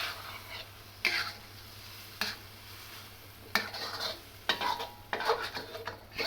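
Red chilies tossed into a hot wok during a Thai shrimp stir fry, with a soft sizzle and several sharp scraping stirs of the spatula against the wok, close and spaced irregularly.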